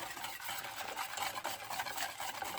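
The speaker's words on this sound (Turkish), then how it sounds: "Son bir kez şöyle güzelce topakları gidene kadar karıştıralım." A whisk or spoon stirs a cake cream mixture in a bowl, a continuous close wet swishing and scraping that keeps a steady rhythm throughout.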